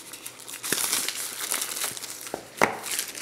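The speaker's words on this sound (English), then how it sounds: "Let's go ahead and take some of this plastic off here." Crinkly plastic wrap is peeled and crumpled off an iPhone 5S Gold box, a continuous close rustle with a few sharper crackles and one louder snap near the end.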